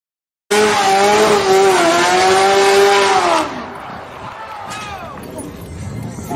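A muscle car engine roars loud and close with squealing tires for about three seconds, then drops off into a rougher crash-like clatter and fading engine noise.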